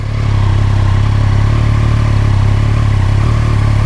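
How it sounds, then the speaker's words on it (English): A 2018 Triumph Street Triple R 765 three-cylinder motorcycle idles up close, its loud, steady engine drone carrying a smooth whine with no speech over it. "The infamous whine of a 3-cylinder"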